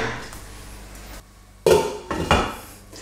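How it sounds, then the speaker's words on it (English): Metal lid clanks onto a cooking pot of spicy beef curry, a couple of sharp clattering knocks close by after a quiet pause, with no talking. "So put a lid on it."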